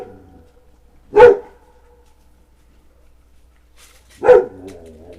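A dog from a pack at feeding time gives two single sharp barks about three seconds apart, close and loud against near silence.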